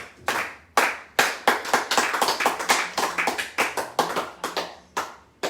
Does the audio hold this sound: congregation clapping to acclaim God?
yes